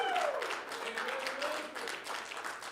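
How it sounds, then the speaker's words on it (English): Audience applause after a student's first solo recital at a benefit concert, a dense wash of clapping heard under a voice talking over it throughout. "Can you give her another big round of applause?"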